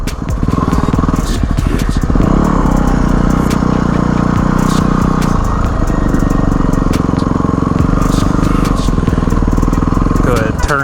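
An old dual-sport motorcycle engine runs close by with a loud, throbbing chug that shifts in pitch as it revs and settles, with sharp clicks and rattles over it. A voice talks along with it.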